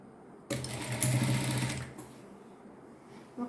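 A sewing machine runs in one steady burst of about a second and a half while stitching a skirt, loud and close, then winds down. A brief soft knock follows near the end.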